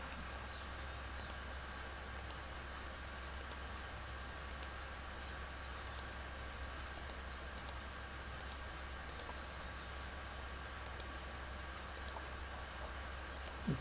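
Computer mouse clicks while working in Revit structural software, sharp faint double clicks at irregular intervals of a second or two, close over a low steady hum.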